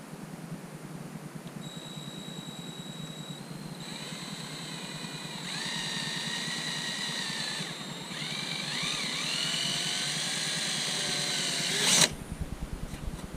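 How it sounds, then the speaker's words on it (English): A power drill whines at rising and shifting pitches, spinning up in stages for several seconds before cutting off abruptly, drilling holes for a front splitter on a C7 Corvette Grand Sport. "So let's go ahead and drill these holes."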